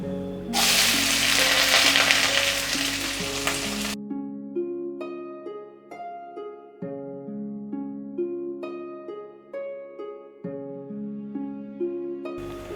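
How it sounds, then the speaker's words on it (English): Chopped onion with mustard seeds and urad hits hot oil in a pan and sizzles loudly for about four seconds before instrumental music takes over. "So into a pan, I've heated some oil. We'll drop in some mustard seeds, some urad. Now we'll add in 1 chopped onion."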